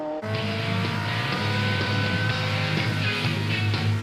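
A Porsche 996 GT3 RS is driven hard through a track corner, its engine a loud, steady, close roar with a sustained high-revving note and a faint hint of tyre squeal.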